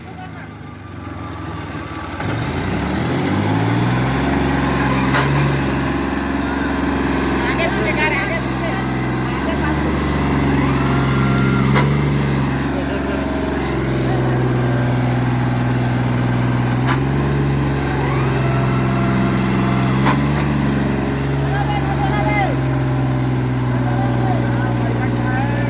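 A tractor without four-wheel drive runs steadily under heavy load while stuck in a farm field during ploughing, its engine droning loud and continuous with slight rises and falls in pitch.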